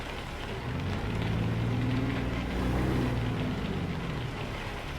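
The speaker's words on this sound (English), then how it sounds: "Wonder if this is going to be one of those all-day rains." Steady rain in the truck-driving game American Truck Simulator, a continuous broadband hiss with a low engine hum running underneath throughout.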